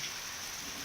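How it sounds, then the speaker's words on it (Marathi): Heavy monsoon rain pours down in Beed, Maharashtra, a dense, even hiss of rainfall with no pauses or other sounds. "बीडमध्ये देखील सलग दुसऱ्या दिवशी मुसळधार पाऊस पडतोय"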